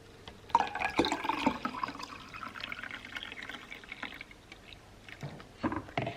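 Watermelon juice poured into a mason jar, a soft, fairly quiet liquid trickle and splash running for several seconds with a few faint knocks toward the end.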